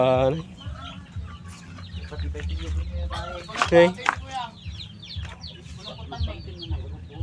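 Chickens clucking in the background beneath a person's speech, with a louder squawk partway through.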